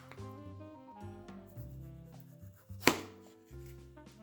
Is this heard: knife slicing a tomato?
yes